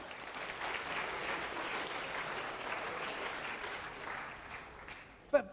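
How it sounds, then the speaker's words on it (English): A lecture audience gives Patrick another round of applause, a moderate, even spread of many clapping hands sustained for about five seconds, then tapering off before a single sharp knock. "Let's give another round of applause for Patrick."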